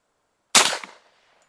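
A single sharp shot from a Hi-Point 10mm carbine firing a reloaded round cracks loud and close, then decays quickly into a short echo against near silence.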